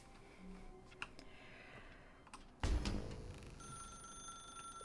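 Telephone ringing in the video game The Stanley Parable, a faint bell-like trill under a quiet room tone, followed by a louder clunk and a sustained tonal ring.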